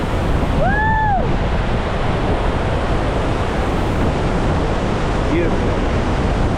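Iguazu Falls on the Brazil side roars as a dense, loud rush of falling water, with strong wind buffeting the microphone. Brief whoops ring out early and again near the end.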